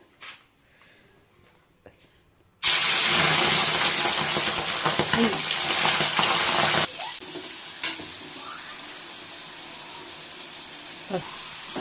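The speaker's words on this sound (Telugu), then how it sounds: "మనము క్లీన్ చేసి పెట్టుకున్న రొయ్యల్ని ఆయిల్లో వేసుకుందాము." Cleaned prawns dropped into hot oil burst into loud, dense sizzling that starts abruptly, roars for several seconds, then settles into a quieter steady fry with occasional pops.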